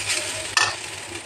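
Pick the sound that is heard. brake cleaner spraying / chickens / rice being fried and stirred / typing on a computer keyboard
rice being fried and stirred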